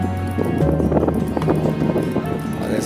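Horses moving along the San Gabriel River trail, their hooves clip-clopping in an uneven, overlapping rhythm close by, with steady wind rumble across the microphone throughout.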